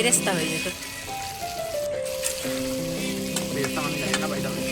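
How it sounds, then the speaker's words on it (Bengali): Onions deep-fry into crisp birista at a home picnic, giving a continuous crackling sizzle under people talking, with some tonal sound running alongside. "বেরেস্তা মানে হচ্ছে ভাজা পেঁয়াজ কালো পুরো ভাজা পেঁয়াজ"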